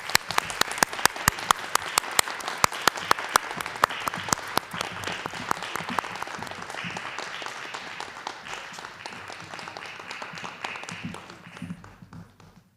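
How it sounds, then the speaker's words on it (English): Applause at a board of education meeting, with a few sharp, close individual claps standing out over a steady crowd clapping that gradually thins and fades out toward the end. "Please join me in giving her a round of applause."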